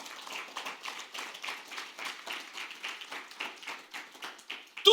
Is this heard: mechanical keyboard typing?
no